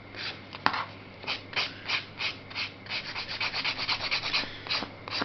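A nail file rubbing back and forth across gel nail polish, rhythmic close scratchy strokes repeating steadily, quickening toward the end.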